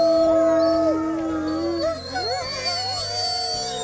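A wolf howls in long, sustained, wavering tones that glide up and down, loud and close, with a second voice joining over a low background hum and no speech.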